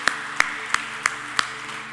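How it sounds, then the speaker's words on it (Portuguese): A small church service audience gives a few sparse claps, about five distinct sharp hand claps spaced evenly over a low steady hum, fairly quiet and close. "Vamos aplaudir a Kel, porque ela mandou muito bem nessa art"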